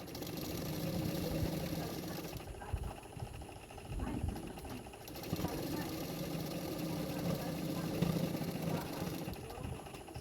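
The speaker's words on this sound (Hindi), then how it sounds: "तो अभी मैं फिटिंग के लिए सिलाई कर रही हूँ।" A sewing machine stitches a katori blouse for fitting, running in a steady mechanical hum through most of the clip, with a brief dip in the middle before it picks up again.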